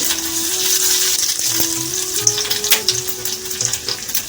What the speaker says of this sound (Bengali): এই ছোটো এলাচ দারচিনি লবঙ্গ ফোড়নে দিয়েছি